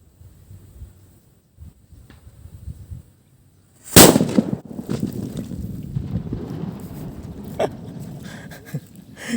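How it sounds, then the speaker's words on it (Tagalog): A single loud firecracker blast cracks sharply after a quiet stretch, followed by echoing rumble, wind noise and a few smaller pops. "Grabe ang lakas talaga ng paputok ni Alas."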